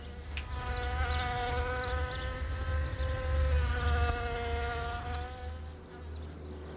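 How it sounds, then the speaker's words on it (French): A founding queen wasp, a female fresh out of hibernation, buzzes steadily and close with a loud, wavering drone that holds for several seconds before easing off slightly near the end. "Cette guêpe-là n'est pas ordinaire. C'est une femelle fondatrice, née l'été précédent."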